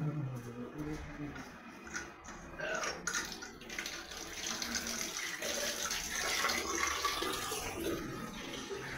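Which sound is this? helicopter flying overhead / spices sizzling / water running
water running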